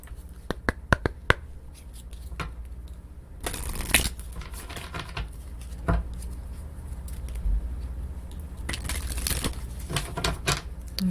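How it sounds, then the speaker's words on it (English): Oracle cards are handled and shuffled during a tarot reading, with quick crisp flicks and taps at first, then longer rustling riffles and slides, close by and fairly quiet. "Let's get some Oracle cards."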